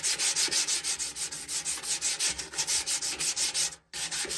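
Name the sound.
sanding rusty metal with sanding disc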